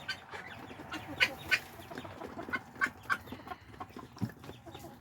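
Backyard chickens in a barnyard cluck and squawk in scattered, irregular bursts, close by and fairly loud over a soft background, with one low grunt-like call near the end.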